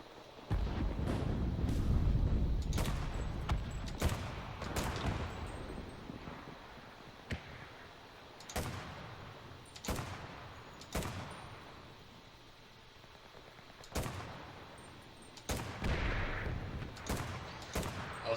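Gunfire from a weapon in the video game Enlisted: sharp single shots spaced irregularly over a rumbling battlefield bed, some loud and near, others fainter, with no talking.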